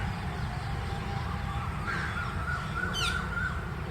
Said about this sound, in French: Je sais pas ce que c'est comme oiseau, il a un long bec.